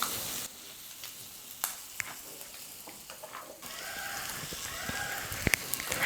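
Egg masala fries in a pan on a low flame with a continuous soft sizzle. Faint clicks and scrapes of stirring come through now and then, and the sizzle grows a little brighter partway through.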